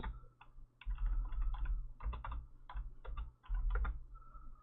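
Rapid typing on a computer keyboard, irregular bursts of clicking keystrokes close by, alone without speech, with a low steady hum underneath.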